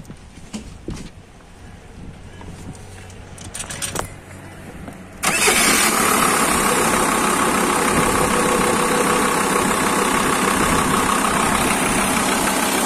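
A car engine cranks and catches after a few seconds of quiet handling noises, then settles into a loud, steady idle close by, in a test after pouring vinegar and tap water into the engine.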